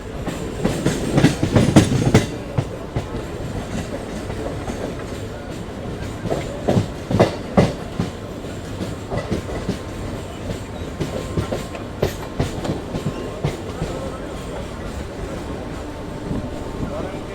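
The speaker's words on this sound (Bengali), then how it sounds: "হাওড়া স্টেশনের দিকে ট্রেন ঢুকছে" A Katwa–Howrah galloping local train runs on the rails toward Howrah station, heard from on board as a continuous rumble with a rhythmic clickety-clack of wheels over rail joints that swells and fades, with speech at times.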